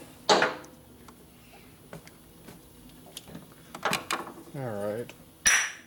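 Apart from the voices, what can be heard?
hammer striking a stuck screw on a motorcycle part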